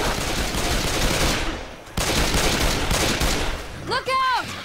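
Dense, continuous gunfire from a shotgun in Left 4 Dead 2, loud blasts packed together for several seconds with a brief gap, other game sounds layered in and a short rising electronic tone near the end.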